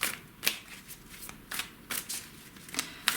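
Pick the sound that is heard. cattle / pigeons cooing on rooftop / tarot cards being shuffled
tarot cards being shuffled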